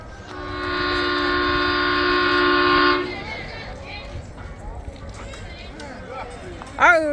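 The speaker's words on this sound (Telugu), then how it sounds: "ట్రైన్ వస్తుంది" A toy train at Hyderabad's Nehru Zoo sounds a loud, steady horn for about three seconds. Chattering voices and a child's excited calls follow.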